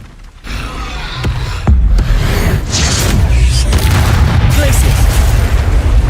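A Confringo fire spell in Hogwarts Legacy bursts into a booming explosion, followed by a continuous loud rumbling roar of fire and combat effects, with a voice shouting over it.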